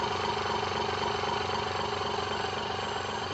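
Two modified brushless DC motors in a looped off-grid charging setup idle with a steady, unbroken mechanical hum and whine, constant in level throughout.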